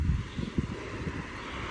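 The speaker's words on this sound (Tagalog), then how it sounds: "ang lakas ng hangin ba?" Strong wind buffets the microphone while biking outdoors, a continuous low rumbling roar with gusty swells, no talking.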